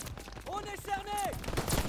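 Gunfire rattles in Call of Duty WWII during a World War II battle against German lines. Short bursts sit under a loud, drawn-out shouting voice.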